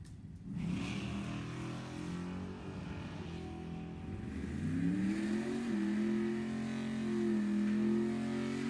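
A 1968 Camaro drag racing car at an NHRA event revs and accelerates with a steady engine drone that rises in pitch midway and holds loud to the end.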